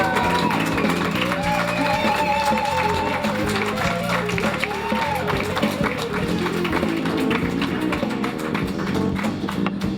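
Studio audience applause and cheering greet the guest's entrance at a live talk show, dense continuous clapping with whoops and shouts, mixed with background music and some talking throughout.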